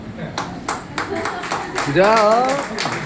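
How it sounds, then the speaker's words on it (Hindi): Rhythmic hand claps ring out from listeners at a retirement talk about 42 years of service, fairly close and steady, with a voice speaking over them partway through. "तालियां बनती जोरदार।"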